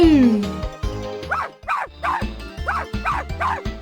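Cartoon dog barks and yips from the 102 Dalmatians: Puppies to the Rescue video game on Dreamcast, a run of short repeated barks over game music and a character's voice.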